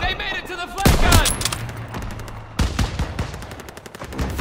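Call of Duty WWII battle gunfire crackles in loud bursts of rapid automatic shots and single cracks, with a brief pause partway through, heavy and close.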